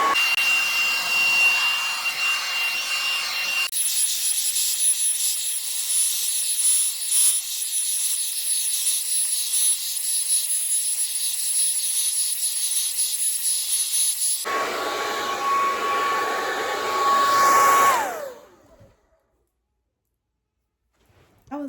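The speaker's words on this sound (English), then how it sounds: "so let's get back to blow drying" A hair dryer runs close and loud in a steady whooshing drone while blow drying hair, its pitch and airflow shifting abruptly a couple of times as settings change, then it switches off and goes quiet.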